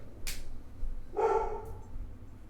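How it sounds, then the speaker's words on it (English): Dog named Kato barking once indoors, a single moderately loud bark after a short sharp sound, with background quiet around it. "Kato, what are you barking at?"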